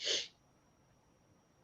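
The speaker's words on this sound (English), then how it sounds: "I thought I was going to sneeze." A single short, sharp sneeze bursts out close to the microphone, followed by near silence.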